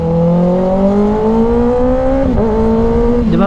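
A Kawasaki ZX6R motorcycle's engine holds a loud, steady tonal exhaust note, a smooth rising drone with rich harmonics, briefly dipping and wavering near the end as the revs shift.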